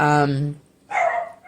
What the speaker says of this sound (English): Sorry for my dogs barking.